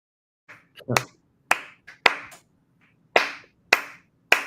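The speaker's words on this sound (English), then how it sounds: "I'm clapping for her because a lot of people have said that" A few sharp, close hand claps in irregular pairs and singles separated by quiet gaps, with faint talking underneath, during a discussion about voting in Detroit.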